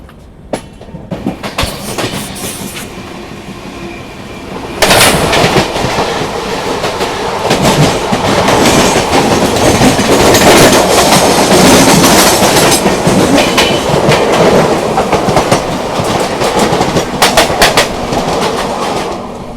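Purushottam Superfast Express train on the New Delhi to Puri route running on rails, heard from inside a first AC coach as a loud continuous rumble with rhythmic wheel clatter over track joints, growing louder after a few seconds.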